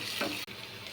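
Chopped tomato with ginger-garlic paste frying in a pan for an aloo green peas curry, a soft continuous sizzle with a brief stir partway, close and quiet.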